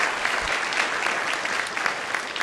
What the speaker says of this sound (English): Give these folks a round of applause again.